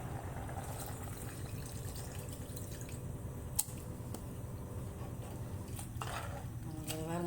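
Tamarind water goes into a pot of Tamil mochai puli kuzhambu curry, a steady close pour with soft drips and splashes plus a sharp clink partway through.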